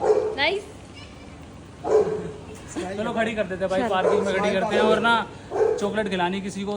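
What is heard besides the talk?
dogs barking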